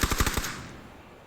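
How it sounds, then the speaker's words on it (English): A short, loud automatic burst of about five rapid shots in the battle royale game PUBG, followed by a fading echoing tail. "headshots in return, forcing the smoke from Abracadabra"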